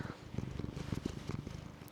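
A pet cat named Sebastian purrs up close in a steady, rhythmic rumble of quick low pulses that continues evenly for about two seconds, with no voices.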